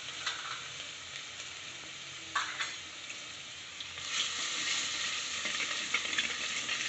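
Garlic and asafoetida sizzle steadily in hot tempering oil in a home kitchen, a continuous close crackle that swells louder in the final seconds, with a few light stirring clicks.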